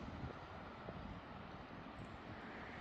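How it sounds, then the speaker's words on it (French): Wind gusts rush high overhead on a hot day, a faint, broad, steady whooshing with slight swells, distant and soft, with no voices. "Le bruit des rafales qui passent en haut."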